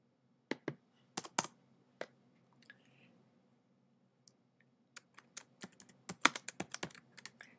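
Quiet typing on a computer keyboard in scattered bursts of sharp key clicks, with a pause in the middle before a quicker run of taps.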